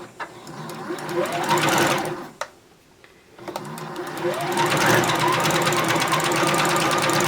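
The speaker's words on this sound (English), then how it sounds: "And sew off the edge." A sewing machine stitches a seam along the edge of a women's surgical cap, its rapid motor whir and needle chatter running steadily, briefly pausing then resuming louder and continuous.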